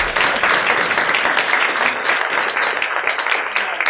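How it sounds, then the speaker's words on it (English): A crowd at a neighborhood association meeting applauds with steady, dense clapping that runs loud and unbroken throughout. "Let's give a big round of applause."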